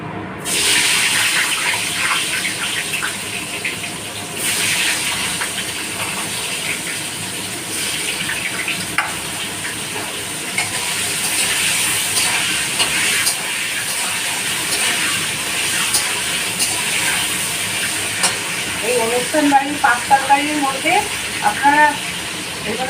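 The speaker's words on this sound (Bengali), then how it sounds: "তারপরে আমি ফুলকপিটা ভেজে নেব" Cauliflower fries in hot oil for a five-vegetable curry with fish head, a loud continuous hiss close by that holds steady throughout, with a voice briefly audible toward the end.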